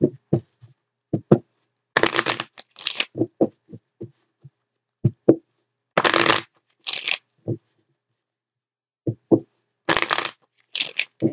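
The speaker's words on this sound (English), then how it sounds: "Do a couple more shuffles here." Tarot cards being shuffled by hand in short bursts of riffling and soft slaps, separated by quiet pauses, close and clear with no talking.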